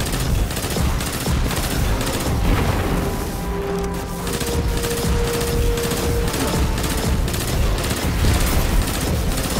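Dense, sustained gunfire in the Destiny 2 video game, a continuous rattle of rapid shots and booming impacts with no pauses, loud and close throughout.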